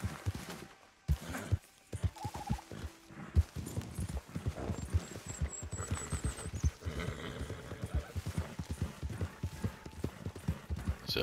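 Horse hooves clip-clop steadily in Red Dead Redemption 2 Online, a brisk, continuous rhythm of close hoofbeats over game ambience, with a brief whinny and no talk.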